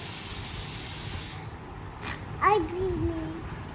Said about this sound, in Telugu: చూడమ్మా ఒకసారి, ఏమంటుంది కుక్కర్?